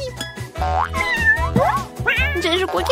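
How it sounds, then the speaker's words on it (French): Kitten meowing in a cartoon scene, several rising and falling mews over a bouncy musical backing, with a cartoonish boing-like effect mixed in. "Quel joli chaton!"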